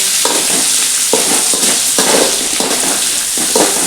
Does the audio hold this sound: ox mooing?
no